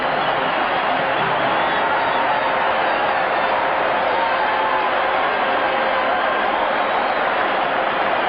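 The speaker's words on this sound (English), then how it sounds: "Listen to this crowd." A packed ice hockey arena at the Canada Cup final between Canada and Czechoslovakia gives off a continuous, muffled crowd roar with a dull, old-broadcast quality, and faint commentary may sit underneath.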